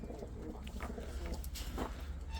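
Expensive pigeons coo softly in a loft, with a few faint, low, rolling calls over quiet background rustle.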